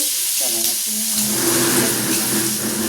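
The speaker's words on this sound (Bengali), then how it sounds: "অনিয়নগুলো ভাজা ভাজা হয়ে যাওয়ার পরে টমেটো দেবে" Steady sizzling and crackling of onions frying in a pan, close and continuous, with faint clinks of stirring and a brief voice in the background.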